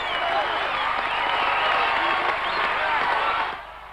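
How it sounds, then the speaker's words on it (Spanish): Crowd applause and cheering in a football stadium, a loud continuous roar of clapping and voices that holds steady before dropping away abruptly near the end. "¡Aplaude con entusiasmo!"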